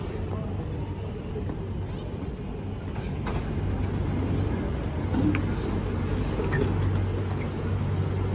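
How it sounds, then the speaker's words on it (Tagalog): A low, steady rumble of a Singapore MRT metro train rolling in, with a constant hum and rattling, heard from nearby inside a station. "Ayan na, dumating na yung tren."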